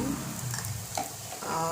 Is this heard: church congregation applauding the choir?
no